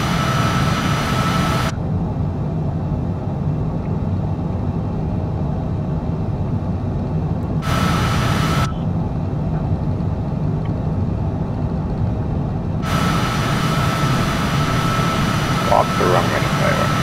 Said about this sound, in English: this is a Cessna. DJ-4, and it is a Cessna jet, as you can tell, but landing gear up